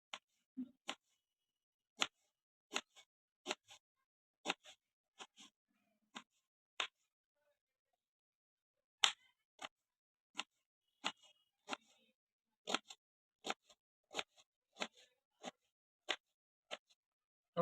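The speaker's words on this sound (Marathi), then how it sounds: "बघा असा कापायचा आपला आंबा" A knife slicing peeled raw mango for chutney, a long series of sharp, isolated clicks as the blade meets the board, spaced unevenly with one pause in the middle.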